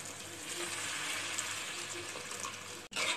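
Tamarind water poured into a simmering pepper kuzhambu, giving a steady, close rushing splash for about three seconds that breaks off briefly near the end, with no voices.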